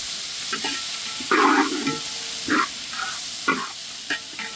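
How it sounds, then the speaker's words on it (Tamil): Tomatoes sautéing in a pan for Mannargudi chicken kulambu, a steady sizzle broken by repeated scraping strokes of a spatula, close and fairly loud. "தக்காளி லேசாக வதங்கினா போதும்"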